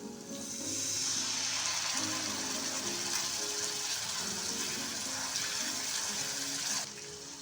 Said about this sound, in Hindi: और इसमें थोड़ा सा पानी डाल देंगे।